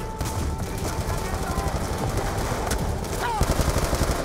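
Dense automatic gunfire fills a Black Ops 2 campaign firefight, a continuous loud rattle of rapid shots with brief bursts layered over it, under game effects.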